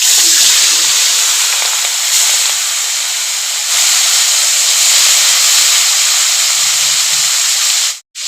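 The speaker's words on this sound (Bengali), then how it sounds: "তেল গরম হয়ে গেছে, চিংড়ি মাছটা ভেজে নিব।" Shrimp, rubbed with salt and turmeric, frying in hot oil for a malai curry, giving a loud, steady hiss and sizzle that carries on without a break and then cuts off abruptly near the end.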